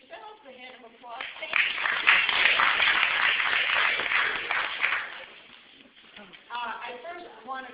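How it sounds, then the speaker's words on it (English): Audience applause at an event following a theatrical production, rising after a voice speaks, sustained clapping for several seconds, then fading as speech resumes. "how about give yourself a hand of applause?"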